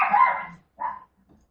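A dog named Pups barks in two short close bursts, a longer one and then a brief one, followed by a faint small yip, loud and clear with no talking.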